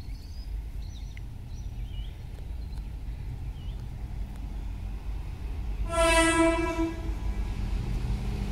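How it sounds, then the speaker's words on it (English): A low, steady rumble of a train passing through a tunnel on Adelaide's Belair Line fills the clip, with faint birdsong early on and a loud horn blast near the end. "You'll probably hear it any second rumbling through the tunnel."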